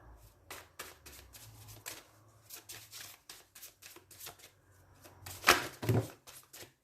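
Oracle cards handled and shuffled in a tarot-style reading, a run of soft papery riffles and flicks that rises to a sharper, louder burst of card snaps near the end, with a quiet voice murmuring low in the background.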